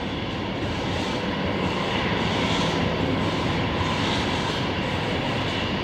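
An aircraft climbing out after takeoff at Brisbane Airport produces a loud, broad, continuous engine roar, close and steady throughout with no voices.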